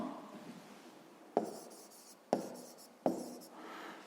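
A pen writes out a math exercise by hand on paper, with soft continuous scratching and three sharp taps as the pen strikes down, close and quiet with no talking.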